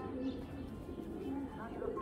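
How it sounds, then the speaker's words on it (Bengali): A racing pigeon from a Bangladeshi loft gives soft, low cooing calls in a short burst, faint and close, with a voice speaking over it. "অনেক সুন্দর চোখের একটা কবুতর"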